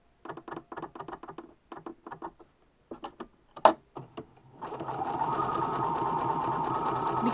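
A sewing machine runs a satin stitch in short bursts, rapid mechanical ticking in separate runs with a sharp click, then settles into one continuous, steady stitching run, close and clear.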